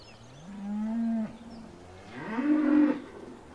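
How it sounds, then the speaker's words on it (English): Newly bought cows on a farm mooing, two drawn-out moos close by, the second rising in pitch, with no talk over them. "And now we shall go and look at our new cows."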